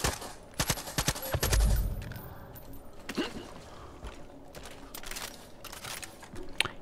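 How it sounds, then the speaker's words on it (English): Gunfire in the Far Cry 5 Ropeway Station arcade map, a flurry of sharp shots and short bursts with a low thump, then scattered single cracks, moderately distant. "where are these shots coming from?"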